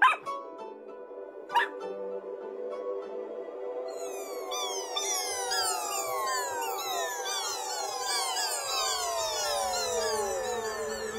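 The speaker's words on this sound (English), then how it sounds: "Little dog Fido!" A small dog barks a couple of times, then high, sliding whines and yelps carry on steadily for the rest of the stretch.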